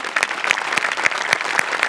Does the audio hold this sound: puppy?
no